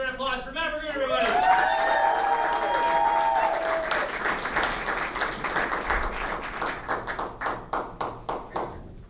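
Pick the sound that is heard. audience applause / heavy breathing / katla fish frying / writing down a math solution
audience applause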